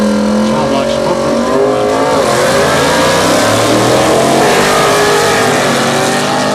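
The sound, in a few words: 1940 Chevy small block drag car revving and racing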